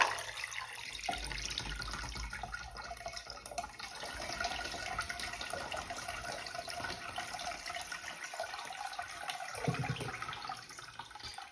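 A toilet loaded with a pile of rocks is flushed, giving a long, steady rush and gurgle of water, close and continuous, without speech.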